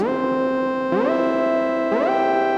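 A buzzy synthesizer tone from the Ambient Ø synth repeatedly glides upward into a held note, each swoop restarting about once a second, three times in a row.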